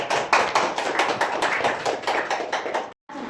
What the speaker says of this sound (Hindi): एक जोरदार तालियों से।